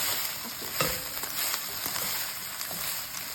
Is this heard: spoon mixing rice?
yes